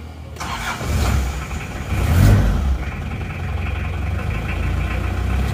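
An Isuzu Panther 2.3 diesel engine, after a stuck throttle, surges up around the middle, then settles into a steady, even running rumble, loud and close.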